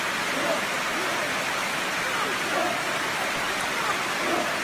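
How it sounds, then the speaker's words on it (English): Heavy rain pours steadily during jungle army training, a dense, even hiss of rainfall on surfaces with a faint murmur of activity beneath. "I think the rain is very much heavy"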